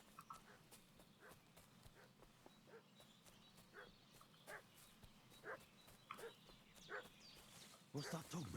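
A dog in the medieval video game Kingdom Come: Deliverance 2 barks repeatedly in short scattered bursts at moderate distance, growing louder toward the end over a faint ambient background.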